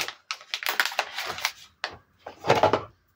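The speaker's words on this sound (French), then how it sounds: "C'est des perles en bois. On va en ouvrir une." A packet of wooden beads being opened, with bursts of rustling and tearing packaging and small clicking, rattling knocks of the beads in separate uneven clusters, close and fairly loud.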